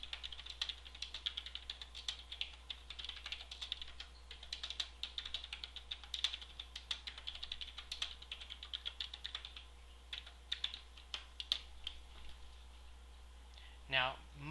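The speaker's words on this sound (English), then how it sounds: "So we're going to type our message here." Steady keyboard typing on a computer while composing an email, a fast run of soft clicking keystrokes that thins out toward the end, with a brief voice-like sound at the close.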